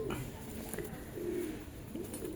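Rooftop pigeons of an old breed coo softly in low, repeated murmurs, with a steady background hum throughout.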